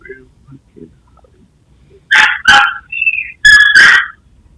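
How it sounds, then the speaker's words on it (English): A pet dog barks indoors: a few faint whimpers, then four loud, sharp close barks in two pairs, with a short whine between them. "Sorry, that's my dog."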